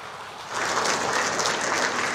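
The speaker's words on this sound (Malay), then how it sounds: "Satu tepukan gemuruh kepada semua warga kerjaya tempat." Applause at a monthly staff assembly of Malaysia's Information Department swells from a quiet room into a steady, dense clapping from a large crowd.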